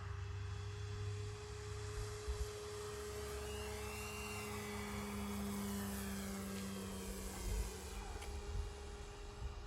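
A Wonder 2 model airplane flies at partial throttle, its motor a steady, faint drone held at a distance across calm air.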